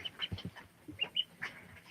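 Ducklings cheep and peep softly in short, high chirps while being fed oatmeal, mealworms and fortified duck food, a faint scattered chorus of small calls close by with low handling noise.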